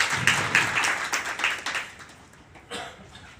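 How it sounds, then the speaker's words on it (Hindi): An audience welcoming guests at a women's awareness event claps, at first moderately loud and scattered, then fading away to faint, sparse claps. "सब लोग एक बार जोरदार तालियों से"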